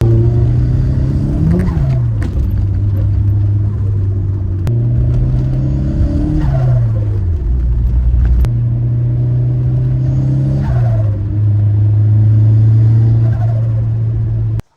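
A tuned Ford Escort engine revving hard through gears as it accelerates repeatedly, a loud droning rumble that rises and drops with each shift, played back from a video, with no talk over it.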